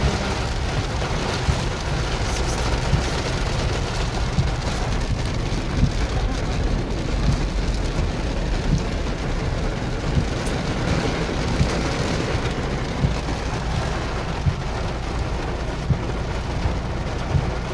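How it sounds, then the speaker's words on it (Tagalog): Heavy rain pours steadily for the whole stretch, a dense, loud hiss with a low rumble underneath and no voices. "Ayan, malakas na. Naabutan na tayo ng ulan."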